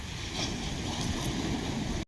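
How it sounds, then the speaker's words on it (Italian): Rough sea waves crashing on a shore beside a parked camper van, a continuous loud roar of surf mixed with wind buffeting the microphone, no voices over it. "sono onde veramente aggressive"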